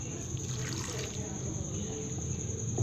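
A cup of water poured into a pan while cooking a potato and egg fry, a steady splashing pour close by over a faint high background whine.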